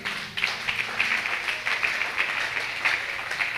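A church congregation applauds together, a dense, steady burst of many hands clapping at close range that keeps going evenly without any speech over it.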